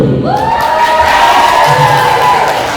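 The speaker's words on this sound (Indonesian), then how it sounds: "Tepuk tangan dulu" Crowd cheering and applause at a university faculty closing ceremony and awards event, a loud continuous roar of voices and clapping that fills the whole stretch, with some shouting mixed in.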